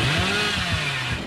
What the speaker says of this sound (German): Boah, der rastet ja voll aus mit der Kettensäge